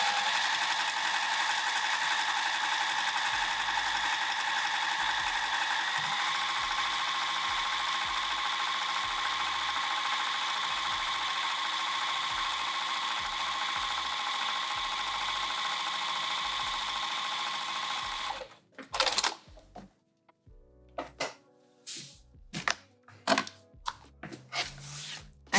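A sewing machine stitches a bag strap in one steady, continuous mechanical whir for about eighteen seconds, then cuts out and gives way to scattered handling clicks and knocks.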